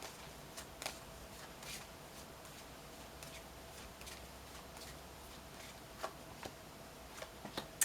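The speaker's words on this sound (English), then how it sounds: "I'm going to pull one card for your energy and one card for your love interest or potential" Tarot cards being shuffled and drawn by hand, soft faint rustling with scattered light snaps and taps of cards, quiet and close with no voices.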